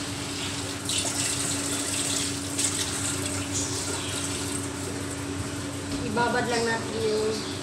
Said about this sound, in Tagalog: Irababad lang natin yung rice sa tubig.